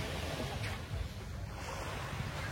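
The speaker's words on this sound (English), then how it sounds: "Look at the ocean one more time." Ocean surf rolling in at Alona Beach, a steady wash of breaking waves with some wind buffeting the microphone, continuous and moderately loud with no talking.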